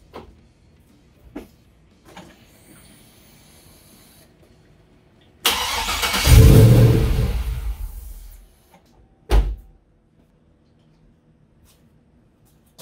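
An LS V8 engine, its cooling system just refilled, cranks and catches with a loud close roar, runs for about three seconds and cuts off, with faint clicks and knocks before and one short thump after.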